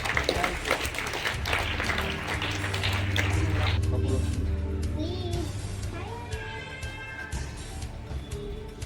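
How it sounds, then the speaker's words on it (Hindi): School students clapping together at an activity session, a dense burst of applause lasting a few seconds. A voice and adult speech follow as the clapping fades. "ताली हो जाए उत्साह बढ़ाने के लिए।"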